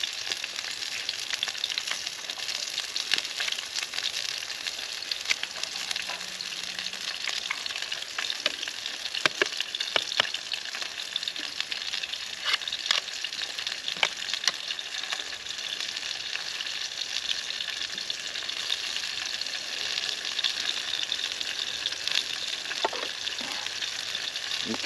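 Onions, peppers and jalapenos fry in a pan outdoors in the Alabama snow, giving a long, steady crackling sizzle dotted with sharp pops and occasional stirring.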